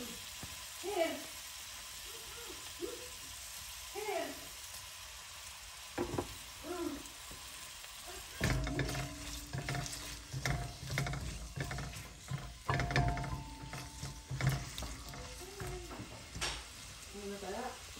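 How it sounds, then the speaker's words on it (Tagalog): Onions sautéing in a pan with oil while making corned beef, a soft sizzle under intermittent stirring and scraping clatter, with a person speaking early on. "Isosote lang natin sibuyas hanggang mag-caramelize"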